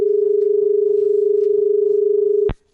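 Steady telephone ringback tone pulsing continuously for over two seconds as a caller connects to a Hindi women's radio call-in show, cutting off abruptly at the end with no talk.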